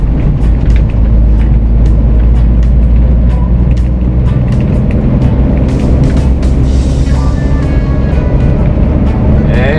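Manual car engine pulling hard after a shift into fourth gear, a loud steady drone with a strong low rumble that holds for the whole stretch.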